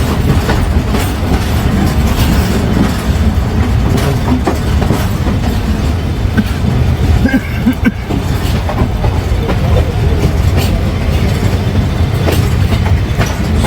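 Pakistan Railways passenger train rolling from Lahore toward Peshawar, a steady loud rumble of carriages with rhythmic clickety-clack of wheels on rail joints throughout, heard from inside the coach.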